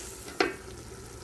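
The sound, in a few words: hot water poured onto fried rice for vegetable khichuri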